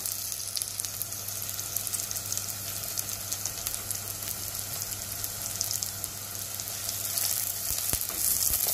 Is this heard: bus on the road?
no